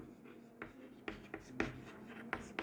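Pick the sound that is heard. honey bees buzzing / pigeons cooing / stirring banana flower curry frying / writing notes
writing notes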